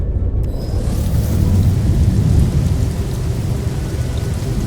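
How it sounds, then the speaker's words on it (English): Heavy rain pours and deep thunder rumbles in the video game No Man's Sky, a loud, dense roar that swells briefly in the middle and then holds steady. "So it's raining."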